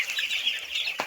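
Chicks on a poultry farm give a continuous, steady high-pitched cheeping and clucking, with a brief flutter or scuffle at the very end. No voices are heard.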